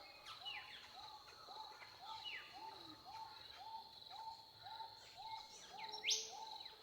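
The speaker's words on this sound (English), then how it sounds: "this final bird song indicates that it's time for you to start bringing some gentle movement back into your body" Soft, evenly spaced bird hoots repeat in a steady rhythm over a faint cricket-like drone, with a brief bright chirp near the end; no one speaks.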